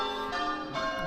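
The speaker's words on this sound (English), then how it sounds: "The church bells." Church bells ring out on a Sunday morning in the English village of Ingatestone, a dense overlapping peal of steady tones that sounds moderately distant and fills the whole moment without pause.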